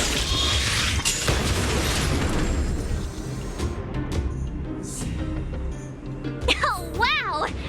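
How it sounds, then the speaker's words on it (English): Loud, dense game explosion in Honkai: Star Rail, a sustained roaring blast with bursts and booms filling several seconds, then fading into sparkling, warbling effect sounds, with talk over it. "We wiped them all out in a single explosion!"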